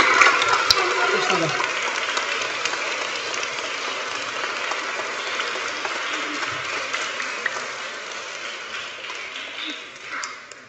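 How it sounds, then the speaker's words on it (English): Audience applause at a Year 6 school leavers award ceremony, a long even patter of many hands clapping that holds steady before thinning out near the end. "Round of applause, please."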